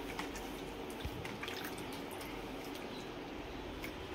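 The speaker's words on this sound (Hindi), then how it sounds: "ये मटन है, इसको वॉश कर रहे हैं पहले।" Water trickling and dripping while mutton is washed in a home kitchen, a faint continuous splashing wash with a few sharper drips, heard alone without talk.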